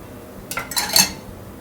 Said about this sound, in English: I'm gonna add some olive oil, garlic, and fresh corn kernels to put on top of my cachapa.